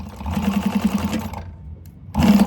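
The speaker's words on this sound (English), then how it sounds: "Whoa, I need a back stitch. That's a big back stitch." A home sewing machine runs in a steady whirring burst while stitching a candy bag seam, pauses briefly into near silence, then starts up loudly again for a back stitch, heard close with no talking.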